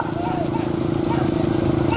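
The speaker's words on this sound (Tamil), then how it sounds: "3 மாடு உள்ள வருது" Bulls' hooves pound in a rapid, driving rhythm during a big-bull bullock cart race at Melmangalam, running beneath loud, continuous announcer commentary over a public address.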